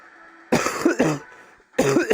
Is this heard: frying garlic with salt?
no